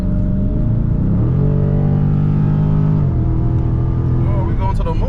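A 2021 Dodge Charger Scat Pack widebody pulls hard, its engine note rising steadily through the gears, then a quick drop and another climb. The sound is loud and close, with brief talk near the end.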